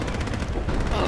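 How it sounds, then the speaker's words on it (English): A burst of gunfire in the underwater shark video game Depth, loud and close, cracking rapidly over about a second with no clear pause. "I shot him."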